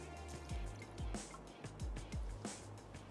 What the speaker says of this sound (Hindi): तो हम इसमें ऐड कर रहे हैं 1 कप पानी